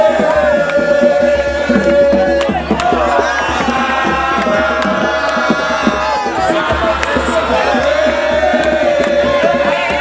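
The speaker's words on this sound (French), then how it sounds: "l'hystérie totale d'une foule de jeunes déjà en délire" Frenzied crowd of young people at a political rally, cheering and shouting loudly and continuously, with sharp rhythmic beats and music woven through the roar.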